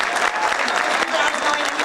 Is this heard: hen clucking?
no